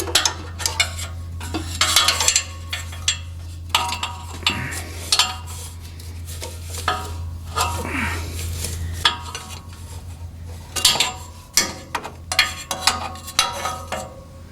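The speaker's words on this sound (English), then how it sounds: "Let's see if I can get a filter wrench in here and actually" A filter wrench clanks and scrapes against the oil filter beneath a 455 Pontiac LeMans fitted with headers, close-up metallic clinks and grinding rubs coming in irregular bursts over a steady low hum.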